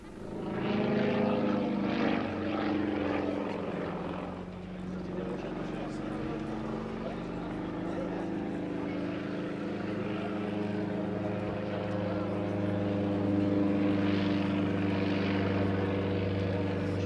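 Su-31 aerobatic propeller aircraft flying at a Russian air force air show, a loud continuous engine drone with steady harmonic tones that shift slightly in pitch as it manoeuvres, with a voice talking over it.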